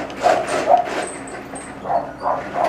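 A neighbour's Jack Russell terrier barks in a handful of short, sharp bursts, some paired, others spaced a second or so apart, moderately close and carrying over a faint background hum.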